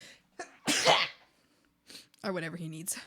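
One sharp, loud sneeze bursts out near the start, framed by quiet speech before and after, with a nearby voice talking during a casual art livestream.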